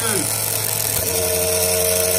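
A boat engine, one of several, starting and settling into a steady loud idle with a rising tone shift near the start, heard up close as an even mechanical drone with a voice speaking over it.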